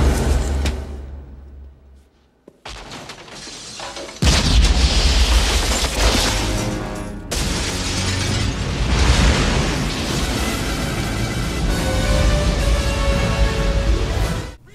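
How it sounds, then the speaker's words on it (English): Fish tank explosion scene from a Mission Impossible film, with a bubblegum bomb shattering the tank: a dense, loud roaring blast of rushing water and debris that cuts in after a quiet lull and rumbles on with film score. "the fish tank explosion that he uses to escape with the bubblegum bomb just looks pretty cool"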